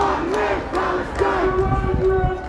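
A large crowd at a Free Palestine ceasefire protest march in Denver chants in unison. The voices are loud and rhythmic and rise and fall as one mass, with no single speaker standing out.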